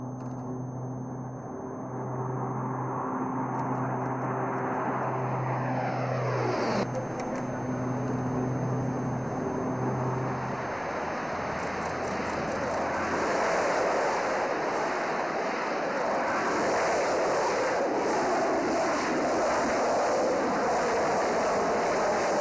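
A Blue Angels C-130 transport, Fat Albert, takes off on eight solid-fuel JATO rockets, giving a loud, sustained roar that builds into a dense, steady rush and holds for over twenty seconds, with an engine drone beneath it early on.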